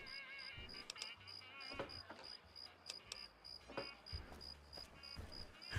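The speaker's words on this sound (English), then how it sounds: "There's a loud cricket in here." A loud cricket chirps in the video game Fallout: New Vegas, a steady high-pitched trill with repeated ticking pulses, close and persistent over low rumbling game noise.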